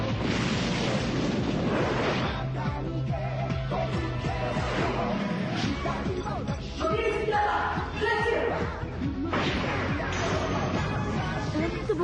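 An anime battle fills the air with continuous gunfire and booming explosions, a dense, loud barrage layered with music and effects throughout.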